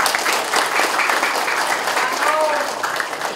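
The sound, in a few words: audience applause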